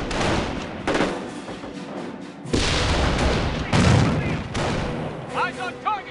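Battle gunfire from the Company of Heroes World War II strategy game: repeated rifle and machine-gun bursts and booms, loud and close, with game voice lines shouting over the combat.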